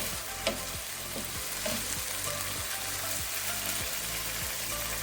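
Shrimp dry fry sizzles in a pan while a spoon stirs it in regular scraping strokes, roughly two each second, under a constant hiss with no talking.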